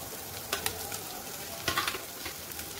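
Carrots and other vegetables sizzle steadily in a pan while a utensil stirs them, scraping in a few distinct strokes, close and moderately quiet.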